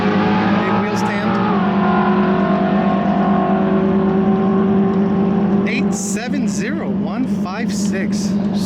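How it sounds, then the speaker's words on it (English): Drag race car with a TVS 4200 supercharger in an S197 Ford Mustang, engine roaring loud and steady through a hard launch into a big wheel stand, with tyre and crowd noise rising near the end and talk over the top. "Big wheel stand."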